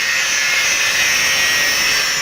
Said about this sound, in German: Mit der Flex erledigt er die Vorarbeiten.